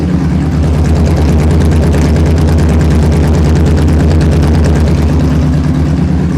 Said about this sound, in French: C'est un V8 de chez Porsche de 500 chevaux.